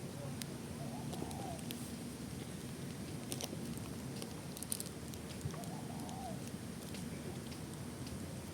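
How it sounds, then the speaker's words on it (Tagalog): Pigeons or doves coo softly in Tai Po Waterfront Park, a couple of short rising-falling calls well apart, faint against a steady rushing outdoor background. "Dito ka makakarinig na ano, ng ibon na ganon."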